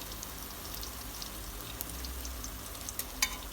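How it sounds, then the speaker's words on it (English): Frankfurter fritters fry in oil in a pot, a faint, steady crackling sizzle with scattered small pops, heard close and alone. "So we let it fry some more before we lift."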